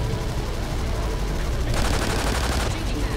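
Heavy gunfire in a video game shooter, a continuous rattle of automatic shots that gets louder and denser partway through, with faint shouting mixed in.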